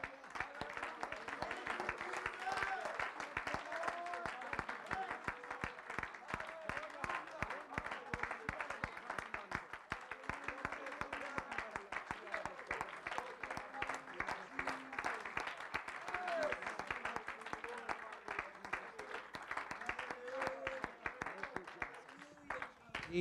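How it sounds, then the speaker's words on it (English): Church congregation clapping hands in steady rhythm throughout, loud and continuous, with singing and voices mixed underneath. "Clap your hands, all ye people."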